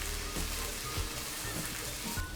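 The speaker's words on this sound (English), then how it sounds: "Okay, so our onions are frying." Steady crackling sizzle of onions frying in a hot pan, close and constant, with small pops throughout.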